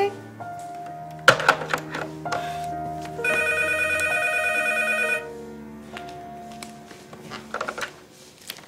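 A telephone rings with a bright electronic trill lasting about two seconds, preceded by soft thunks and movement and surrounded by faint background music.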